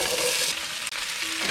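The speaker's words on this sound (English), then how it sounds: "We're just gonna start frying off our vegetables." Vegetables sizzle and crackle in hot canola oil in a Dutch oven over medium-high heat, a steady bright frying hiss with a brief stir partway through.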